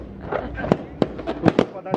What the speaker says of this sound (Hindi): ये तो पटाखा लग रहा है।